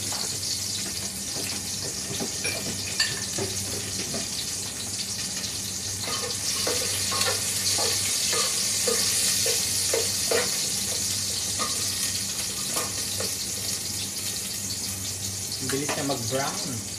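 Garlic fries in a pan with a constant hissing sizzle and scattered crackles and pops, heard up close in a home kitchen as someone speaks briefly near the end.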